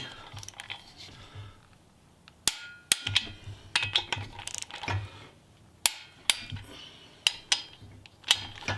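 A torque wrench tightens bolts on a Pontiac in a crisscross pattern up to 70, giving a series of sharp, close metallic clicks at irregular intervals over low ratcheting and handling noise.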